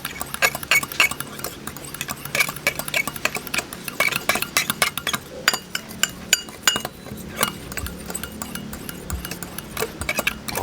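A metal utensil clinks and scrapes against a bowl while a smoked pork rib marinade of ketchup manis is mixed, rapid irregular ticks and chinks continuing throughout, close and moderately loud with no talking.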